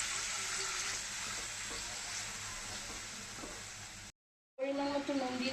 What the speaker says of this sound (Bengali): সামান্য একটু জল দিয়ে কষিয়ে নেব।